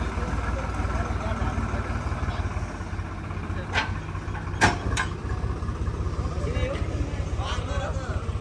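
A tractor engine drones steadily on a cold winter ride to a picnic at Golaghat in Chitwan, Nepal, its low chugging rumble continuous under nearby voices and a few brief knocks.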